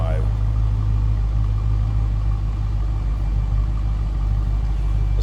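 A 2015 Dodge Challenger R/T Scat Pack idles with a steady, deep, throaty exhaust rumble, close and continuous throughout without revving.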